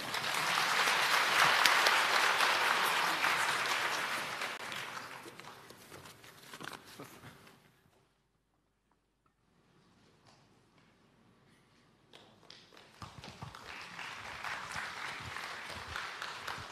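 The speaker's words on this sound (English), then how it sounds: "let's applaud and welcome" Conference audience applauding to welcome Professor Goodchild at an urban informatics summit, steady clapping for about seven seconds that fades to near silence, then swells again toward the end.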